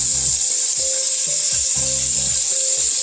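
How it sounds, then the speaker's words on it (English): Beef stew meat browning in a pan over medium-high heat, a loud steady hiss of sizzling fat that holds constant throughout, close up with faint low rubbing underneath and no talk. "And I'm going to add half of my meat. I don't want it to be too crowded in there. I'm wanting to brown it."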